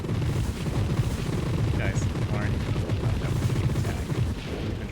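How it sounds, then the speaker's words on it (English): Dense rapid crackling explosions from the space shooter Nova Drift, rolling continuously like a fireworks barrage at close range, with someone briefly talking over it. "It does sound like fireworks now."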